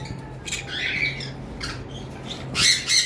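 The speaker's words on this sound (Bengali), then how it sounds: "আমাদের এখানে এক পেয়ার ইয়েলো সাইডেড কোনোর রয়েছে দেখতে পাচ্ছেন খুব সুন্দর" A pair of yellow-sided conure parrots gives several sharp, shrill squawks, close by, with a louder burst of calls near the end and no talk.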